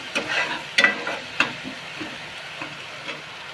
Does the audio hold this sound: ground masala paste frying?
yes